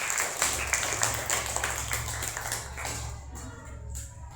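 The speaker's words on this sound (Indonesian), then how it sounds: "Tepuk tangan buat Teteh Syakila." A small audience claps after a child performer's song, a brief burst of clapping close by that quickly fades, with a low hum underneath.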